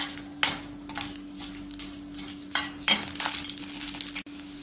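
Cumin seeds, two bay leaves and small pieces of cinnamon stir-fry in hot oil for Kumbakonam kadappa, with a steady sizzle broken by several sharp scrapes and clatters of a spoon against the pan, close by and with no talking.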